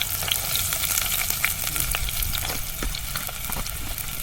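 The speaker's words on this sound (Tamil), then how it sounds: "கிராம்பு பட்டை மசாலா எடுத்து போட்டுக்கலாம். பெருஞ்சீரகம், வெங்காயம் போட்டுக்கலாம்." Cloves, cinnamon, fennel and onion sizzle loudly in peanut oil for a village-style egg masala gravy, with a dense continuous frying crackle and occasional stirring clicks close to the pan.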